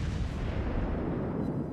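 Main battery guns of a warship firing in World of Warships, a heavy, low rumbling boom that fills the short moment without any voices.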